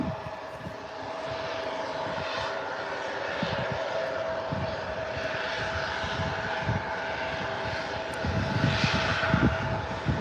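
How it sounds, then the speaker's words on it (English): A CRJ regional jet with rear-mounted twin engines at Birmingham airport, a loud, sustained engine roar and whine that holds steady and swells slightly toward the end, heard alone without speech. "Those lovely rear twin engines there on the CRJ."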